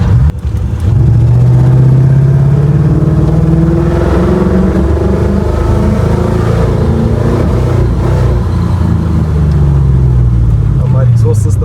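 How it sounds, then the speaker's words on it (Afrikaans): A Chevy C10 pickup engine revs and idles through a Nova exhaust, a loud, steady, throaty rumble close by that rises and falls slightly throughout. "Maar die exhaust system klink nice. Dis 'n Nova se exhaust."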